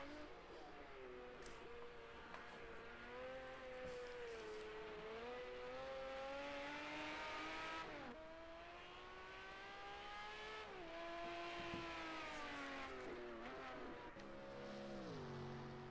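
Race car engine roaring continuously in a Le Mans racing video game, revving up and down through gear changes with steady near loudness and faint tyre noise; a voice talks briefly over it.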